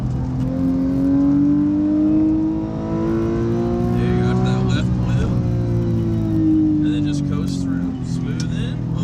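A car engine revs up on a track and holds a rising, strained pitch, easing briefly before climbing again under a coaching voice.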